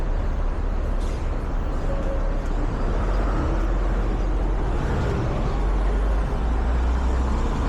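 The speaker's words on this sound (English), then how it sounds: "Garbage truck. New York City Sanitation Department." A New York City Sanitation Department garbage truck passes on 9th Avenue in Hell's Kitchen, Manhattan, its heavy engine rumble loud and close throughout, amid a constant wash of city traffic.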